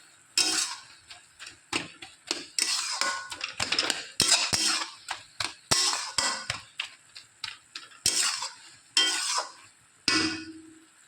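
Water spinach (kolmi shak) is stirred in a pan with a metal utensil, giving rapid, irregular scrapes and clinks that come in bursts for about ten seconds, close and fairly loud, with no voices.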